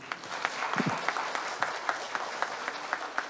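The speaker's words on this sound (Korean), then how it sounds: "토론자분들 큰 박수 한번 해주시죠." Audience applause for panelists at a Yeongdeungpo district public forum on cleaning issues, a moderate round of many hands clapping with a few sharper individual claps standing out, brief and steady throughout.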